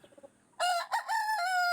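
A rooster on a poultry range area gives one loud, close crow that starts abruptly after a few soft clucking sounds, then holds in a drawn-out, wavering call.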